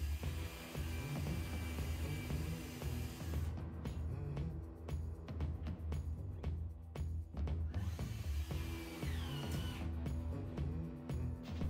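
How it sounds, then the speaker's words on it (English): Drilling pilot holes and driving wood screws into the frame of a wooden coffee table, a continuous close power-drill whir with rhythmic rattling pulses, fairly quiet and without speech. "I drilled in pilot holes before screwing in wood screws across the perimeter."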